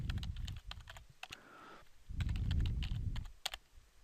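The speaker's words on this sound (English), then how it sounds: "Let's see if I typed it right." Password being typed on a computer keyboard, with quick, irregular key clicks close by, quiet overall and pausing briefly before a denser run of keystrokes.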